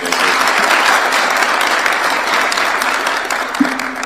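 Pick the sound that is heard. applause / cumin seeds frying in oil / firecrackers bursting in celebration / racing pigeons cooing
applause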